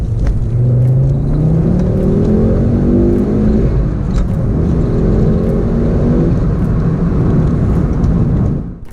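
A 2010 Ford Focus RS Mark II hot hatch engine revs hard, accelerating from 30 to 70 mph and climbing through the gears, rising in pitch with a brief shift in the middle, loud and close throughout.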